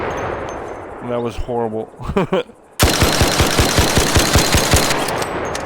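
Rapid automatic gunfire from a Bettina weapon in a video game, a loud, close, steady burst of evenly spaced shots that runs to the end, preceded by brief game sounds and someone speaking.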